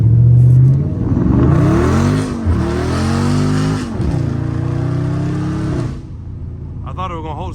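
A Dodge Charger Scat Pack roars through loud, rising revs with wheelspin and tire squeal, the engine note climbing in several surges before cutting off abruptly, heard from inside the car.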